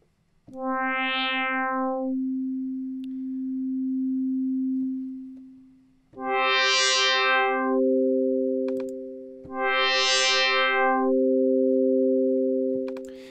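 Three FM synth notes from Native Instruments FM8: each starts bright and buzzy with rich harmonics, then the brightness fades away as the modulator decays, leaving a pure, steady sine-like tone that sustains.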